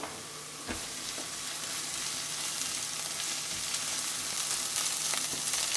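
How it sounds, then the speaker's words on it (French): Chopped chili and onion frying in a pan for a Sri Lankan prawn curry, a steady soft sizzle throughout with a few faint scrapes and taps of stirring. "Une fois que le piment est haché, vous l'incorporez à l'oignon et vous allez faire revenir 2-3 minutes."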